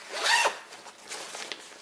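Side zipper on an Osprey Kestrel 38 backpack pulled open, a close, loud rasping zip in one quick run, then quieter fabric rustles and a small click.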